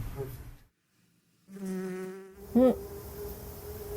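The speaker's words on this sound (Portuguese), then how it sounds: "A mosca." A fly buzzing in a scene from a Breaking Bad episode: a steady, droning hum that starts after a brief silence and carries on to the end, with a short louder swell partway through.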